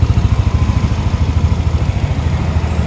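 A 2019 Yamaha NMAX scooter idles close by, a steady low putter with fine clattery pulsing and no voices over it.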